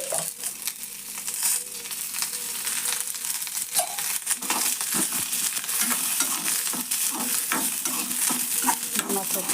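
Onions frying in oil for chicken gravy make a steady, close sizzle and crackle, broken by scraping stirs of a spoon through the pan, heard alone without speech.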